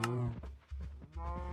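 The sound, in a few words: cows mooing in video game Minecraft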